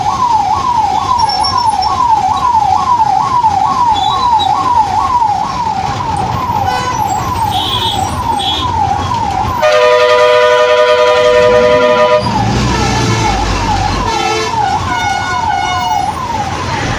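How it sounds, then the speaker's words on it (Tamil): An ambulance siren wails loudly at a traffic signal in Vijayawada, a rapid rising-and-falling warble that switches midway to a harsher steady tone before returning, over road noise. "ஆம்புலன்ஸு சிக்னலில் நிற்கிறத நான் இங்கே தாங்க பார்க்குறேன்."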